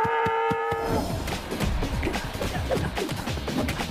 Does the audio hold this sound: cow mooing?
yes